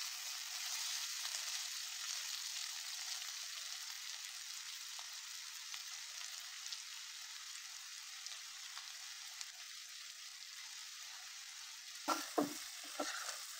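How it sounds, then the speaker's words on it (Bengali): Sweet pumpkin pieces sizzle and fry in a pan, a soft continuous crackle throughout, with a few louder clatters of stirring near the end and no voices. "দু মিনিটের মতো আমি কুমড়োটাকে ভাজি করে একটি পাত্রে তুলে নেব"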